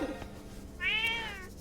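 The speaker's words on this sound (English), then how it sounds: "there's a cat." A cat in Zelda: Echoes of Wisdom gives one clear rising-and-falling meow, moderately close, over a steady soft game ambience with a faint low hum underneath.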